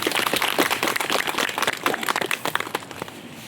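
A meeting crowd claps for a speaker who has just given a talk, a dense, steady patter of many hands that holds for a few seconds and then thins toward the end.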